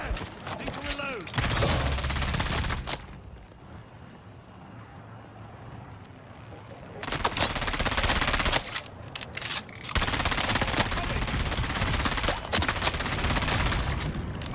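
Sustained bursts of automatic gunfire in the Dune Awakening video game, loud dense volleys at the start and again in the second half, with a quieter lull between and some wind-like noise.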